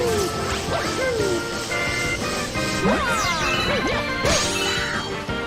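Hits land on a boss's glass dome in the Super Mario Galaxy 2 video game: loud crashing impacts over dense, continuous game music, with sweeping effect sounds layered throughout.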